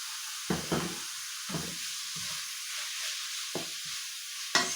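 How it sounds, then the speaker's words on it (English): Eggplant hits a hot pan and sizzles with a steady, bright hiss throughout, punctuated by a few soft knocks and stirring bumps, with no talking. "And then I'm going to add the eggplant."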